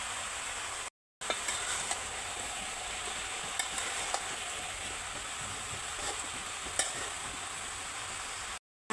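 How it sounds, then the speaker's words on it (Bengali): A mixed vegetable curry sizzles steadily in a pan as chillies go in, a constant close frying hiss broken by a few light clicks of a utensil, with no talk. "এখন আমি মরিচগুলো দিয়ে দেব"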